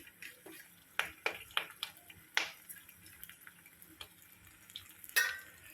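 Curry leaves and green chillies hit hot oil in a pan for a Telugu puffed-rice tempering, giving a soft sizzle broken by a series of sharp crackles and pops near the start and another burst later.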